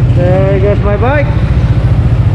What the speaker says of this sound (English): And there goes David's bike right there.